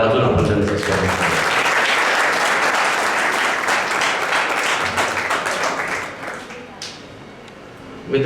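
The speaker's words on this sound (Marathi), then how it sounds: "टाळ्या वाजून आपण त्यांचं स्वागत करतो." A hall audience at a Marathi literary award ceremony bursts into sustained clapping to welcome an arriving guest, loud and dense for several seconds before thinning and tapering off near the end.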